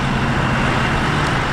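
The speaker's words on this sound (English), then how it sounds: "all these smaller cars, they're just flying by." Small cars speed past on a road near an intersection, a steady, loud wash of traffic and engine noise with no gaps between passes.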